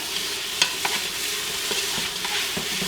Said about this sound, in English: Give this a little stir in here.